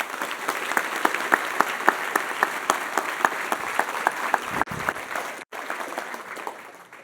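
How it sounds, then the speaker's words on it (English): An audience at a university state-of-the-university address applauds, steady dense clapping with a few sharper claps standing out, loud and close, fading briefly near the end. "So how about a round of applause for all of them?"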